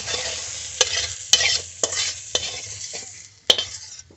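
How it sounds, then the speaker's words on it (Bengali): Spice paste with a little turmeric powder fries in a pan for a brinjal chorchori with small fish. A dense hiss of sizzling runs throughout, broken by several distinct clinks and scrapes of a spatula against the pan. "সামান্য হলুদ গুঁড়ো মশলাটা ভেজে নিয়েছি"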